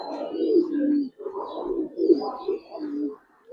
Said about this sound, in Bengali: লাল গেরের কবুতর